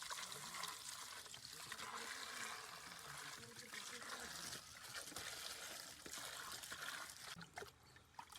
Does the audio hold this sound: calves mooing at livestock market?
no